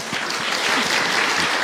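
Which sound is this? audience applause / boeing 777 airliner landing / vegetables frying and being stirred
audience applause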